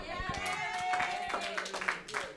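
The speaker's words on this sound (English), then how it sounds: "Give Perry a round of applause" A small audience of college students gives a quick round of applause at a radio-hosted class event, scattered hand claps mixed with overlapping talk, brief and fairly close.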